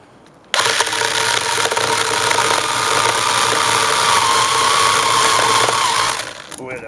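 A small mini chainsaw starts abruptly and runs loud and steady while cutting through wood for about six seconds. Its whine rises slightly as it works, then it winds down and stops.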